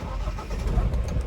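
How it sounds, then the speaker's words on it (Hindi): A Mahindra Bolero City Pick-Up commercial vehicle's engine cranks and catches, giving a dense, steady low rumble for a brief moment with no voices. "तो यहाँ पे गाड़ी मैंने स्टार्ट की"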